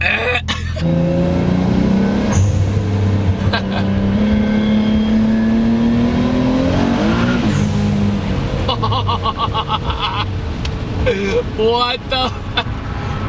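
Big-turbo Nissan 300ZX sleeper accelerating hard, its engine note climbing steadily in pitch through a long pull, loud and close from inside the car, then shifting and pulling again with a rougher, busier tone.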